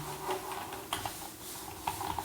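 Someone types on a computer keyboard, producing soft, irregular key clicks close by over a steady background hiss.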